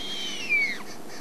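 A Verreaux's eagle owl gives a single short call, close and clear against a quiet background.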